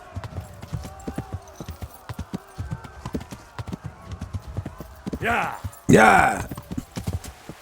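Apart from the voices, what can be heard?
horse hooves in Kingdom Come: Deliverance video game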